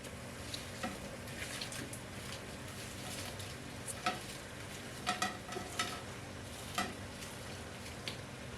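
Beef strips hitting a hot pan for a beef and tofu stir fry, a steady close sizzle and frying hiss with scattered sharp crackles and spatter pops, and stirring now and then, with no voices.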